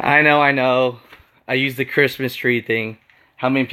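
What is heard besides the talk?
No distinct noise like a dog, phone or traffic.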